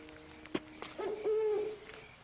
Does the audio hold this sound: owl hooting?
yes